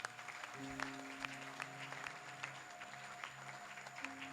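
A church congregation at a French-language Sunday service applauds in a steady wash of clapping, moderately distant, with a sustained organ or keyboard tone and faint voices beneath.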